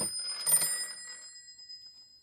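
A Western Electric 302 telephone bell rings in one short burst, a bright metallic jangle that cuts off quickly and leaves a steady high tone hanging afterward. The ring is moderately loud and softer than a restored 302 would sound.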